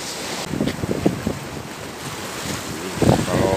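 Strong wind buffeting and big sea waves heard from aboard a boat in rough water, with gusting roar and splashing surges, loud and close without speech.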